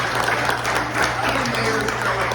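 A crowd at a New Delhi restaurant's 33rd anniversary event gives the mayor a round of applause, loud and continuous clapping close by over a steady low hum.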